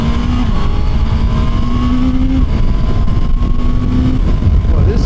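A Honda CBR650 with E-Clutch accelerating, loud, continuous engine drone with rising pitch through gears, mixed with heavy wind buffeting, recorded close on the bike.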